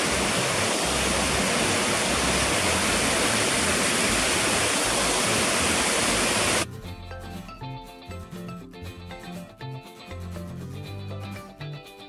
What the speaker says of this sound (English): The water spends about 4 hours in this tank before it flows out into the final clarifiers.